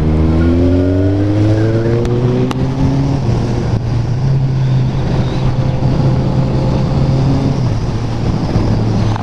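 A motorcycle fitted with an aftermarket exhaust tip revs loudly close by, the engine note rising and falling in steady sustained drones with sharp pops near the start, no voices over it.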